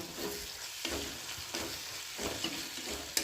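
Turmeric, chili powder, coriander powder and whole cumin frying in oil for palak paneer, a soft continuous sizzle with a few gentle stirring strokes, close but quiet, and no talking.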